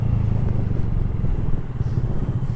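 A Honda Grom motorcycle fitted with a DHM high-compression piston, cam and tune is being ridden, its engine a steady, close, low drone that holds for the whole stretch without pause or voices.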